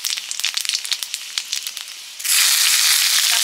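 Mustard oil with dried red chillies, panch phoron and bay leaf for a masoor dal tempering: a few light crackles first, then a sudden loud, steady sizzling hiss that fills the rest.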